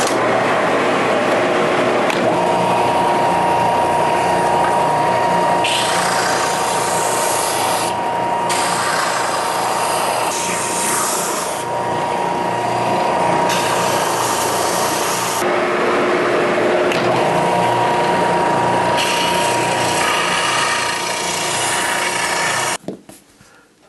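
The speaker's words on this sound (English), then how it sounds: "I'm just going to speed up the process and use my sander." A power sander grinds steadily over a wooden toddler toy for about twenty seconds, a loud, close, continuous rasping whir that shifts slightly in tone as the pressure changes, then cuts off at the end.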